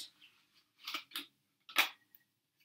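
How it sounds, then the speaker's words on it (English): Cards for the board game Cat Crimes being shuffled and flipped, a few short papery riffles and snaps close by in an otherwise quiet room. "We shuffle, then we flip over a card."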